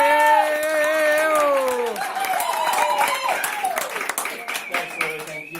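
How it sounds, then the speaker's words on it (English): A party audience applauds and cheers for the man turning 40 at his birthday roast, a steady wash of clapping that rises as a voice fades and continues under scattered talk. "A round of applause for your man of the evening"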